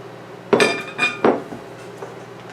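Cooked pasta being mixed with sausage and onion in a bowl, giving three sharp clinks and knocks of a utensil against the bowl followed by softer scraping, close and fairly loud.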